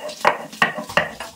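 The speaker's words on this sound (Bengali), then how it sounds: "প্রথমে বেটে নেবো হচ্ছে রসুন।" Garlic ground by hand into a fine paste in a village-style kitchen, heard as three loud, close, rhythmic grinding strokes with scraping in between, alone without talk.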